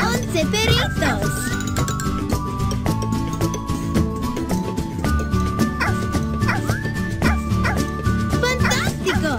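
Puppies bark and yip repeatedly in a Dora the Explorer puppy-finding game, short cartoon woofs scattered over bright, steady game music with jingly effects and child-voiced game speech.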